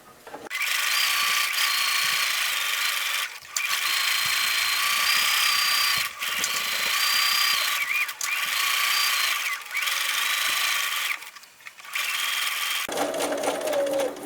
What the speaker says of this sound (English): just stitch all the way around the project using the presser foot for the guide